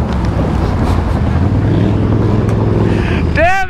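An ATV four-wheeler being ridden outdoors, its engine droning steadily and close with wind buffeting the microphone, a brief whooshing sweep near the end.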